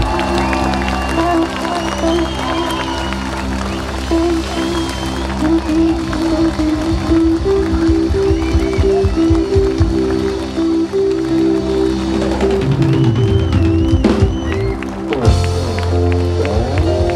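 Concert audience applauding and cheering after a choir performance at a Jakobs dagar event, a long sustained wash of clapping and crowd noise over lingering tonal music, with voices rising near the end.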